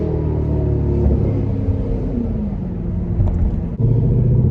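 A Jeep Trackhawk SUV's engine gives a deep, steady rumble at close range, loud and continuous with a slight rise in pitch toward the end, and no voices over it.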